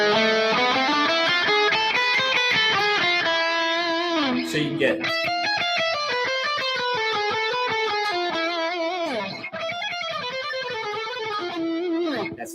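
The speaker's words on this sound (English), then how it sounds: "You probably want to explore getting to know like the harmonic minor scale." An electric guitar with distortion runs through rock and metal lead lines in the harmonic minor scale, with quick, ringing notes that climb and fall. Someone briefly talks over the playing.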